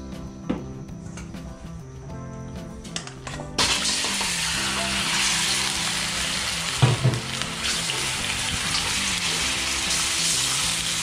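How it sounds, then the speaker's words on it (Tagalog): Pork short ribs fry in a pan, quiet kitchen clatter giving way to a loud, steady sizzle that starts a few seconds in and holds to the end. "medyo iprito muna natin yung ating mga short ribs"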